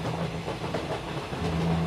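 Moving local train in an animated Bengali ghost story, a continuous rumbling clatter of wheels on rails with a low hum, steady and fairly close, no voices.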